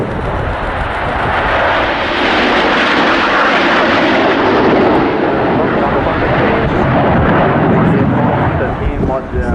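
Saudi Hawks display team jets fly past in formation at the Royal International Air Tattoo, RAF Fairford, producing a loud, continuous roar that swells and holds steady throughout, with faint commentary underneath.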